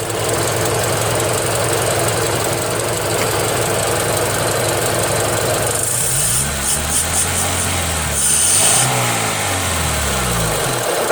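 Car engine with a faulty idle air control valve idling roughly, then revved twice in rising and falling sweeps, loud and close with no talking.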